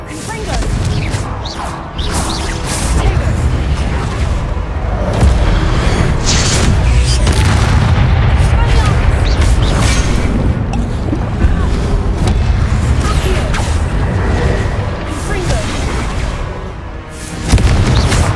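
Fire-charm blasts in the video game Hogwarts Legacy, a dense roar of loud booming explosions and crashing debris running nearly continuously, with a voice calling out over the din.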